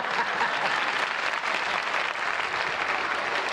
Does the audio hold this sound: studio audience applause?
yes